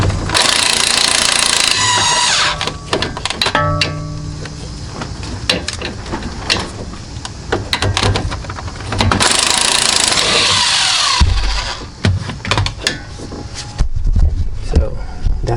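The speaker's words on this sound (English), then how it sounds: "You just pry the spacing behind the bracket and just hit it with the gun again." An impact gun works on a strut bolt of a Toyota Corolla during strut replacement, rattling in several loud, whining bursts separated by short pauses and clanks of metal.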